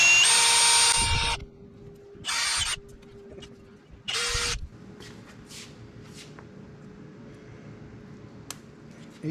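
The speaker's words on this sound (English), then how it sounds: "we got to drill these 3 rivets out" Power drill boring out 1/8 inch aluminum rivets on a 2004 Ford Mustang convertible top frame, three loud close bursts of whirring separated by quiet shop pauses with faint clicks.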